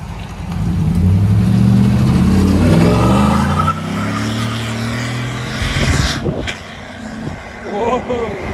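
A 2012 Chevy Silverado with a 5.3-liter V8 and factory converters revs its aftermarket exhaust loudly up close, rising then settling into a lower rumble, with a voice speaking over the engine toward the end.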